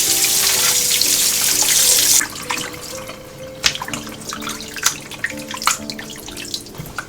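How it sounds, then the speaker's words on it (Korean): Cold tap water runs steadily onto beef short ribs for LA galbi in a kitchen sink, a loud rushing stream that stops after about two seconds, followed by scattered drips, splashes and knocks of wet meat being handled. "먼저 갈비를 찬물에 한번 헹구어 주겠어요."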